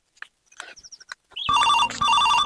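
A telephone rings loudly and steadily in repeated electronic trills, preceded by a few soft knocks and short sounds, with nobody speaking over it.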